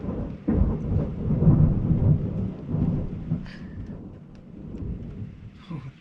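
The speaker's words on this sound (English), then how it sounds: "It's like the longest bit of thunder I've ever heard." A long, loud peal of thunder rolls on and on during a thunderstorm, deep and rumbling with rising and falling swells, over a steady wash of rain.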